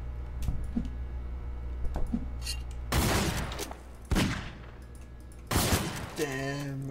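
Gunfire in the video game Garry's Mod, a few sharp shots early, then three louder extended bursts of rapid fire separated by quieter gaps, with light game noise between them.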